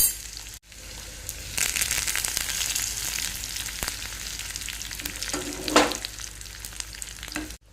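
Garlic, urad dal and curry leaves fry in hot oil for a tempering, a steady close crackling sizzle with stirring scrapes and a brief louder burst near the end.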